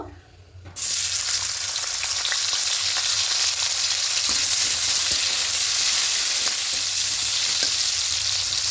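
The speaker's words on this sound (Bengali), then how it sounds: "এবার এখানে সর্ষের তেল দেব, এবার তেলের মধ্যে পেঁয়াজ কুচি দেব" Chopped onions drop into hot mustard oil and burst into a loud, continuous sizzle after a brief quiet start, the frying staying close and even with occasional soft stirring ticks.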